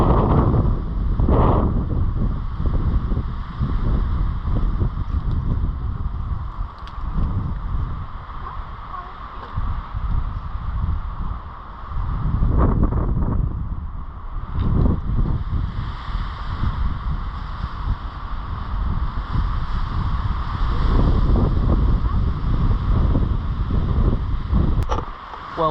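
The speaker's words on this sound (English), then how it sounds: "as you can hear, it's getting a little bit windy" Steady outdoor wind buffeting the microphone on a mountain hike near Estes Park, Colorado, a continuous low rumble that swells and eases in gusts throughout, with no voices.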